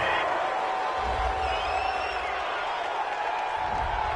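Crowd noise from a home stadium in a Madden 20 football simulation, Tennessee Titans against Carolina Panthers, rises after a big fourth-down penalty call, a steady wash of cheering under commentary.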